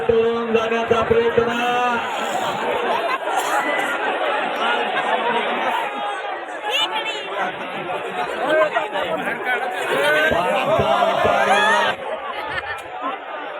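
A large crowd packs a wrestling ground, with dense chatter, shouting and a little laughter rising and falling steadily throughout, loud and close all around.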